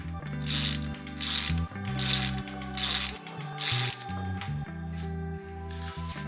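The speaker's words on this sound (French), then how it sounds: "on utilise tout le temps la clé dynamométrique" Torque wrench ratcheting while a bicycle's rear wheel is removed: five loud, rapid clicking bursts in a steady back-and-forth rhythm, close up, with brief pauses between strokes and then quieter mechanical handling.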